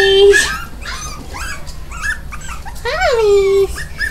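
Pomeranian puppies bark in short yips and let out a long rising whimper, close and fairly loud, while a person talks over them excitedly.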